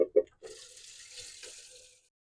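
Water running from a kitchen tap into a pot, a couple of soft knocks and then a quiet, steady stream for under two seconds before it stops.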